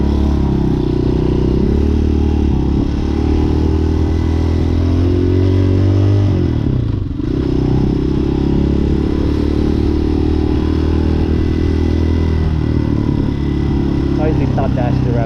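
A motorcycle engine drones steadily while riding through busy street traffic near a school, loud and continuous, with a brief dip midway and faint talk beneath.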